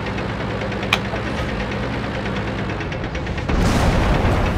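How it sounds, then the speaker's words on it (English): Artillery fire in the tank game World of Tanks: a dense, steady rumble of engine and battle noise with a sharp crack near one second and a louder, heavier blast swelling in just before the end. "That was artillery fire."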